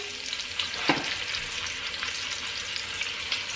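Braised short ribs sear fat side down in a pan, giving a steady moderate sizzle with a brief clunk near the start, close and continuous with no talking.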